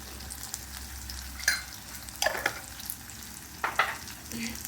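Black peppercorns spluttering in hot oil, a steady close sizzle broken by several sharp crackling pops and bursts at irregular moments, with no talk.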